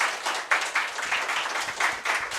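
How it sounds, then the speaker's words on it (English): A small audience claps after a tech talk on microservices, a short burst of applause with uneven pulses that stays moderately loud before fading. "Big round of applause, please."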